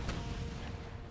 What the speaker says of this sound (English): Cannons on the fort are firing.